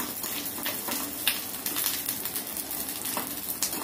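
Ingredients for mango pickle fry in a pan with a continuous close sizzle, broken by sharp crackles and occasional stirring scrapes, with no talking.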